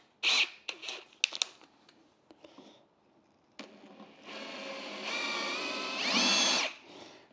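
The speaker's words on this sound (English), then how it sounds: "I need a bigger big drill bit. So I'm gonna get a bigger one, drill bit." A close, loud power drill with a larger bit starts and stops in short bursts, then runs longer, its whine rising in pitch as it bites into material.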